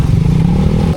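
Motorcycle engine running loud and close, a rough low throbbing rumble with a brief rising rev before it cuts off abruptly at the end.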